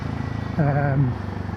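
A Royal Enfield Himalayan 450 motorcycle cruises at speed with a steady, pulsing engine and wind drone. A voice briefly talks over it in the middle.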